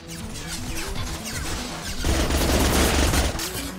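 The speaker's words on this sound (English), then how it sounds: "Concussive shot!" A Concussive Shot ability fires in Mass Effect 2, giving a loud, dense burst of crashing impact noise that swells halfway through, with steady battle sound beneath.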